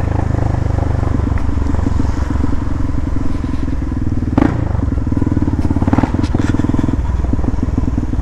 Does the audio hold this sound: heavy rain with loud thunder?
no